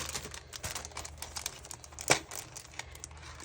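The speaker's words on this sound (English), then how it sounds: "Let's get it out. All the crinkly noises." Plastic packaging holding craft die cuts and stamps is opened with soft, close crinkles and rustles, plus one sharper crackle near the end, all fairly quiet.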